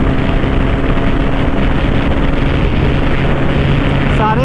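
Bajaj Pulsar 220F motorcycle at full throttle in a drag race against a Pulsar NS200, a loud steady engine drone with heavy wind rush, high and constant throughout with no pauses.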